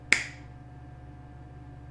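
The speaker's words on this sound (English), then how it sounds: "snap your fingers, release it" A single crisp finger snap rings out close by, then fades into a quiet room with a low steady hum.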